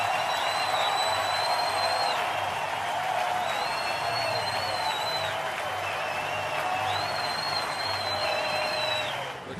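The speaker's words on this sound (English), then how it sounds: "And listen to this crowd." Roaring stadium crowd at a Dodgers vs. Cardinals 2013 NLCS baseball game, a steady loud wash of cheering and applause with whistles rising in waves for nearly ten seconds.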